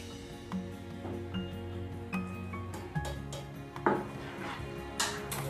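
Melted sugar and ghee stirred in a pan over heat, giving faint, close scraping and light clinks of a spoon against metal at an irregular rhythm under a quiet background hum.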